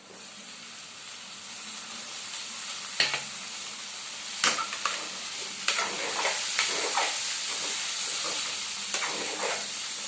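Drumstick pieces frying in oil while being stirred, with a steady loud sizzle and hiss throughout and several sharp scrapes and knocks of a spoon against the pan, no talking.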